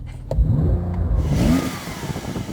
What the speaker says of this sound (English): You're actually revving it?